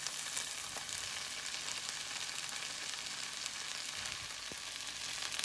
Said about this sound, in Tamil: இப்போ நம்ம தோசையை ஆட் பண்ணிக்கலாம்.